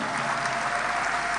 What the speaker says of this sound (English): You want to clap your hands for Jesus for that.